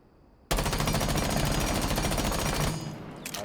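Sustained automatic rifle fire with a compensator attachment in Rainbow Six Siege, a dense rapid burst that starts abruptly and runs loud and continuous for about two seconds before cutting off, with brief clicks afterward.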